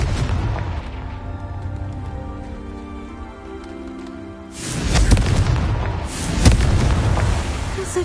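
Confringo, the fire spell in Hogwarts Legacy, goes off: a sustained hissing crackle and low hum rise into a heavy booming blast, followed by another sharp impact and rumbling spray, loud and close, no voices.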